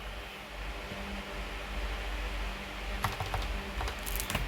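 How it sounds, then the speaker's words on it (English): Typing on a computer keyboard, a short cluster of light key clicks emerging late over a steady noisy hum, fairly close, no voices. "Let's do a little typing."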